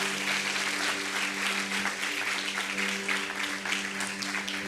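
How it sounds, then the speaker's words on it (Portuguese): A church congregation applauding during a celebration service, a dense sustained round of clapping filling the room, steady and loud throughout. "Quem pode aplaudir ao Espírito Santo?"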